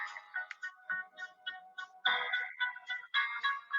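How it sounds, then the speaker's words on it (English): A phone rings in a quiet room with a bright, warbling electronic ringtone, its short repeating melodic phrases clear and isolated with no voices over them. "Is that your phone, Susan?"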